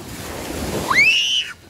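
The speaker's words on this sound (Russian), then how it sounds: "Здесь сегодня такие волны." Surf at a beach in Korea washes steadily in a broad hiss, then a brief rising high-pitched cry rings out over it before fading.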